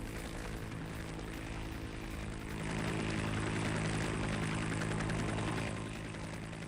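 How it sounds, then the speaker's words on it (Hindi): A Mi-26 helicopter airlifts a Pantsir air defence system to a high-rise building, its rotor and engine drone steady and broadband throughout, swelling somewhat louder midway before easing back. "ये देखिए कैसे हेलीकॉप्टर के जरिए इसको लेके जाया जा रहा है।"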